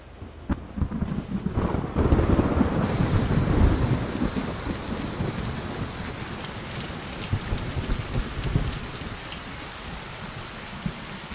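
Sudden heavy rain pours down with thunder, a dense roar of rainfall that swells early and keeps drumming steadily, with no voices.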